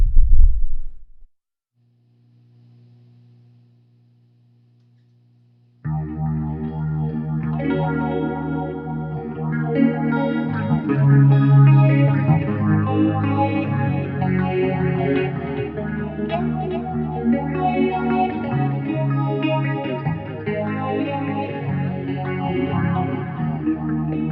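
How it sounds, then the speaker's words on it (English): A clean electric guitar, an EVH Gear Wolfgang Special made in Japan, plays a flowing melody with delay repeats trailing each note, steady and full after a short quiet opening. "I'm going to give you a little bit of an audio sample how this guitar sounds."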